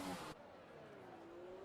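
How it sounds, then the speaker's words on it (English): An F1 car in the F1 2020 video game accelerates out of the pit lane, a rising engine whine that climbs steadily after a brief loud burst at the start. "car firing out of the pit lane."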